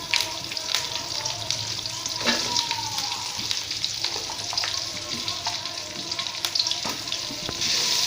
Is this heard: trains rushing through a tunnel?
no